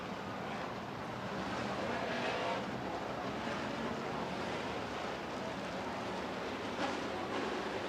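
Super stock race cars at a memorial feature race run down the back straight of the track, a steady, distant, blended engine roar without clear passes.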